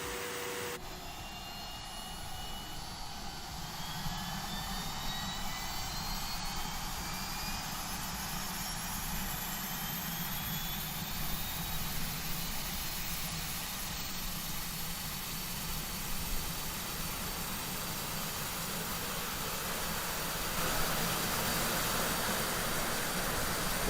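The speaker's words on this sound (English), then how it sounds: "We're going to get engine, the left-hand engine started first this time around." A simulated de Havilland Canada DHC-6 Twin Otter turboprop engine starts up in Microsoft Flight Simulator, a steady loud whine and roar that holds for about twenty-four seconds with rising tones and no talk.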